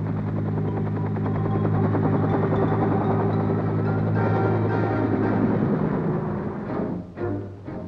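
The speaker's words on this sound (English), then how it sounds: "dust-off is the affectionate code name for the medical evacuation helicopters" A U.S. Army medical evacuation helicopter in 1968 Vietnam gives a loud, continuous rotor drone with a rhythmic low thrum, holding steady before wavering and easing near the end.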